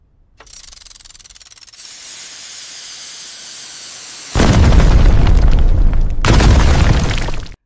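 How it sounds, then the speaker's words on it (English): A pressurized stainless steel instrument tube ruptures: a steady hiss builds in stages, then bursts into a loud, roaring blast of escaping pressure that cuts briefly and returns before stopping abruptly. "a short section of stainless steel instrument tube was pressurized until the tube itself ruptured"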